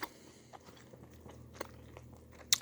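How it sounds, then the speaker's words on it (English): Crunchy candy being bitten and chewed up close, with sharp irregular crunches scattered over a few seconds against a quiet room background and no talking. "Apologize for my chewing."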